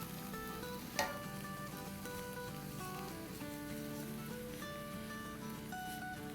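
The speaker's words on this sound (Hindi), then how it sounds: "ये यहाँ सॉटे हो रही है हमारी अनियन, गार्लिक, जिंजर, हरी मिर्चें" Onion, garlic, ginger and green chilies sauté in a hot pan with a steady, close sizzle, and a single sharp clink near the start cuts through the frying hiss.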